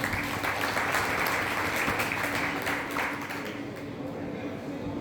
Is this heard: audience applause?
yes